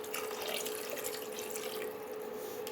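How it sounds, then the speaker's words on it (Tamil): Two cups of water poured into a pan of sautéed prawns for gravy, a steady close splashing stream that runs throughout, no talking. "2 கப் தண்ணி ஆட் பண்ணணும்."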